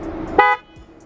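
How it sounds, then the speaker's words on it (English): A car horn gives one short, loud honk close by, cutting through a low rumble of the vehicle, then leaving near quiet. "Airi, stop honking at us"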